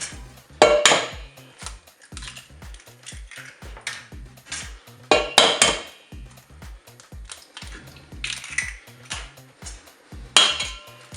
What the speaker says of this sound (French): je vais casser mes œufs dans le saladier